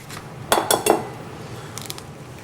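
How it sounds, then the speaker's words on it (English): Eggs being separated into a bowl for an Italian meringue, three quick clinks of shell against a dish followed by a fainter pair of taps, close and alone in a quiet kitchen. "Separate your eggs."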